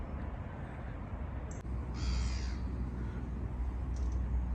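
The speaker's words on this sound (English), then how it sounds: "There's that seagull. Shut up." A seagull gives a single harsh, wavering call around the middle of the recording by a fishing lake, fairly close and standing out over a steady low outdoor rumble.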